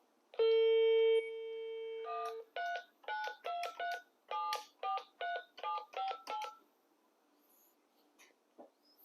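Dialing tones from an analog corded office desk telephone with caller ID: a long steady tone, then a quick run of about a dozen short, evenly spaced key beeps, clear and close with no talking.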